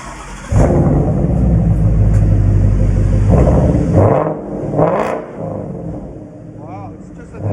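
Ford Mustang GT 5.0L fitted with a KRONA 3-inch exhaust revs hard and close with a deep rumbling roar, holding for several seconds before easing off, with people talking over it.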